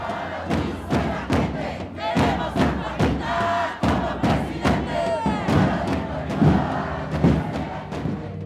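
A large crowd outside a party congress cheers and chants in rhythmic waves for a mayoral candidate, loud and dense with steady rhythmic thumps and shouting voices.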